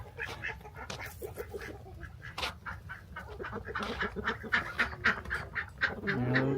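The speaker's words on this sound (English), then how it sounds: "Little ducks." Ducks honk and quack in a busy, overlapping chorus that grows louder and denser toward the end, close by with no talking.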